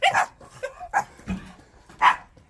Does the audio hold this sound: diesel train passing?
no